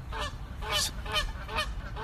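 Loud geese honk in repeated raucous bursts, several birds calling over one another close to the microphone with no speech.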